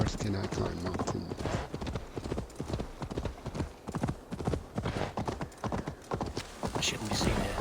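Hooves clip-clop steadily as a horse is ridden in Assassin's Creed Valhalla, a continuous rhythmic trot, close and loud, with an occasional whinny over game music and ambience.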